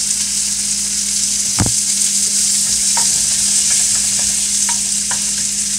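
Tomatoes cook in butter in a pan with a loud, continuous close-up sizzle and crackle, an occasional spoon tap against the pan, and a low steady hum underneath.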